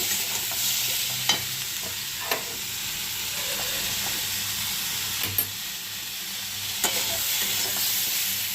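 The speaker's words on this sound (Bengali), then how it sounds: "এতে দিয়ে দিয়েছি নুন, হলুদ আর চিনি, সামান্য পরিমাণ কাশ্মীরি লঙ্কা দেবো। একটু কষে নেব।" Stir-frying spices (salt, turmeric, sugar and a little Kashmiri chilli) in a pan, a steady broad sizzle with occasional sharp clinks of a spatula scraping the pan, no voices.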